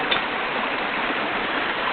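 A creek flows over bedrock, a constant, even rush of water filling the scene without pause.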